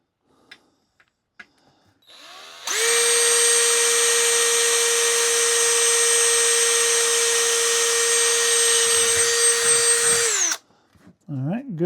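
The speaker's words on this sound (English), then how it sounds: "now let's drill the pilot hole" A power drill bores a pilot hole into a USB hub casing, starting after a few quiet bumps and holding a loud, steady high whine for about eight seconds before spinning down abruptly, followed by soft handling noises.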